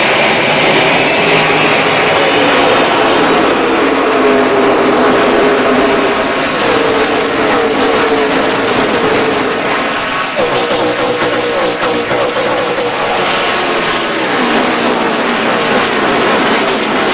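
A full field of 43 NASCAR stock cars thunders past at the start of the 2007 Dover race, a loud, continuous roar of racing engines with shifting pitch as the pack sweeps by, no talk over it.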